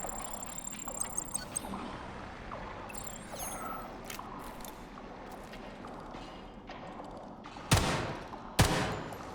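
Gunfire in the shooter Atomic Heart: light scattered shots and clicks over a busy background, then two loud, sharp blasts close together near the end.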